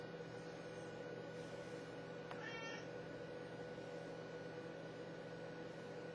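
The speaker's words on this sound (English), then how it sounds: "kitty cat" A domestic cat gives a single short meow midway through, faint against a steady background hum, with no one talking.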